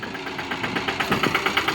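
Tractor engine running steadily while sowing chickpeas in a field, a pulsing mid-range mechanical drone with regular rhythmic beats, fairly close and continuous.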